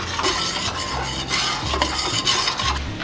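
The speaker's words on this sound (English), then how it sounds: "So keep them moving in the pan and you will achieve that." Scrambled eggs are kept moving in a pan, giving a continuous close scrape of a utensil against the pan over a light sizzle, with soft knocks now and then and no voices.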